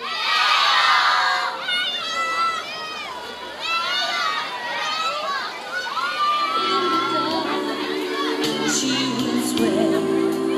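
A large group of schoolchildren from the first and second school years shout and cheer together at an outdoor school event, loud and sustained, with excited voices overlapping across the whole stretch.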